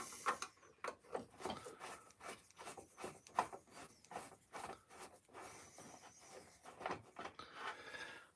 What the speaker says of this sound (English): And undo this screw. In fact, I'll use the other screwdriver to do this.